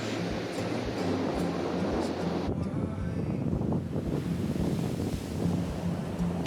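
Ocean surf rolling onto the black basalt sand beach at Vik on Iceland's south coast, a steady washing roar of breaking waves heard up close with gusty wind buffeting the microphone.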